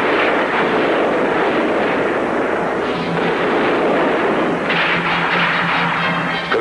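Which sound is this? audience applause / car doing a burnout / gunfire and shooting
gunfire and shooting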